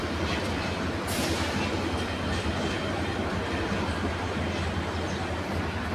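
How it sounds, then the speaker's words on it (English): A train runs through Cumilla railway station on a winter morning, a loud, steady rumble of wheels and carriages with a brief metallic squeal near the start, close and continuous. "This train is still running."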